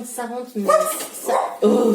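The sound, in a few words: dog barking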